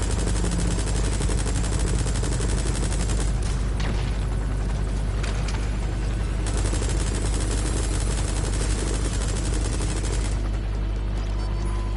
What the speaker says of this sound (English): They're trying to shoot at her